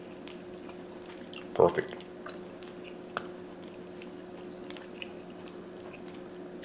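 Chewing on a bite of sausage-rubbed pork tenderloin, a soft close crunch and bite near the start followed by quieter mouth sounds, with a brief spoken word.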